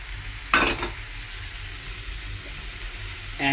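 Tomato paste hits hot oil with fried garlic and ginger paste, giving a sudden loud sizzle burst that fades into a steady low frying hiss, with another flare at the very end.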